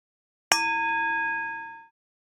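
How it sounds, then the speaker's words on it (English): A single yoga-class bell struck once, a clear bright ding with steady ringing overtones that sustains for about a second and a half before cutting off, with no talk. "You will hear this bell at the beginning and end of every class."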